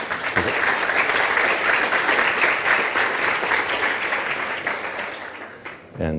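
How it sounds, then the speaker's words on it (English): An audience at a Latin American artificial intelligence conference breaks into sustained, loud applause that fills the hall, then tapers off near the end as a voice begins. "a round of applause."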